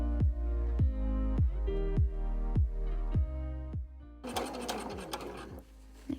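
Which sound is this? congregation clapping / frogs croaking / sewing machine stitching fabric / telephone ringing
sewing machine stitching fabric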